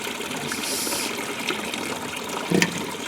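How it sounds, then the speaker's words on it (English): Water gushing and splashing steadily through a small sluice box used without riffles to process gold-bearing dirt in Colorado, a continuous close wash with a brief louder slosh near the end. "now what I'm going to go ahead and do is process this dirt in my little doohickey over here, my little sluice box"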